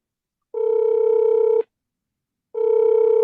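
Telephone ringing as a steady electronic tone, two long rings separated by a pause of about a second, clear and close.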